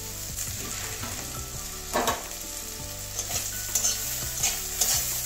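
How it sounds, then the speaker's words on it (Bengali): Bitter gourd fries in oil in a pan with a steady close sizzle, broken by scraping stirs and occasional spatula knocks against the metal. "দেখুন উচ্ছেটা আমার ভাজা হয়ে গেছে"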